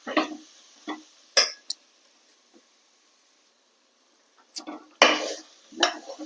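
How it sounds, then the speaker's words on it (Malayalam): Salna curry stirred in a pan with a spoon, giving scattered scrapes and clinks in short bursts separated by near-silent pauses, close and moderately loud. "ഇത് നന്നായിട്ട് ഇളക്കി കൊടുക്കാം"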